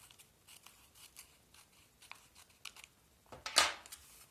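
Scissors snip through paper while a handmade gift for a teacher or mother is being cut out, a series of quiet, close crisp cuts ending in a louder final snip.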